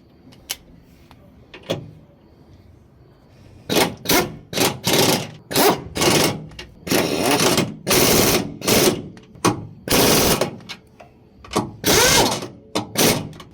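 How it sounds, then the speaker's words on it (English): Impact wrench with a 13mm socket driving a shock mount bolt on a Ford Figo, loud rapid hammering bursts in short repeated pulses after a few quieter clicks, close up. "now we get the impact again, your 13mm socket, and we fasten it down"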